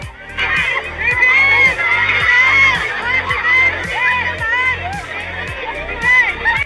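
Fans screaming and cheering as a dense, loud crowd, high-pitched shrieks rising and falling continuously, with rhythmic thumping music underneath.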